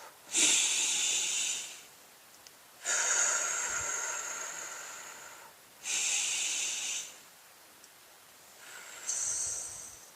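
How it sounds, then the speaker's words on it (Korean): Deep, deliberate breaths drawn in and pushed out through the nose, four long hissing airflows separated by short pauses, close to the microphone, with no talking. "우리 한 5번만 일부러 크게 들이쉬고 크게 내쉬어 볼까요? 코로 일부러"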